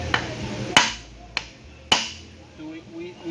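A hammer strikes a bearing during a BMW transmission install on a 1JZ-GTE engine, landing four sharp metallic hits at uneven intervals, close by, with faint voices in the background.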